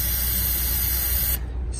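Ether starting fluid sprayed into the intake of a junkyard 7.3 diesel truck engine on a cold start: one loud, continuous close hiss lasting over a second, then cutting off abruptly.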